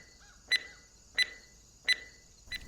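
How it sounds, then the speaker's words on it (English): An electronic beeper sounds three times at an even rhythm with a fourth, softer beep cut off at the end, each a short bright tone over a quiet background. "you could stow that beeping beeper for starters"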